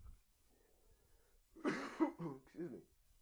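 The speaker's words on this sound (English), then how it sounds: "Excuse me, I got a cough there." A couple of harsh throat-clearing coughs burst out close up after a quiet stretch.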